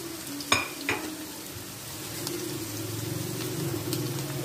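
Sliced onions fry in hot oil in a pan while being browned for kaleji masala, giving a steady close sizzle with a couple of sharp scraping stirs near the start.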